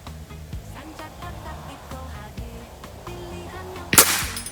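A PCP air rifle shot rings out once, a sharp loud crack striking an iron target near the end, with a steady background hum before it.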